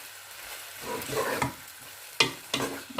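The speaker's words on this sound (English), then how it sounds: "So we will just carry on mixing for about 2 minutes." Chicken curry being stirred in a pan, soft scraping and sizzling with a few sharper spoon strokes toward the end, faint and close, no talking.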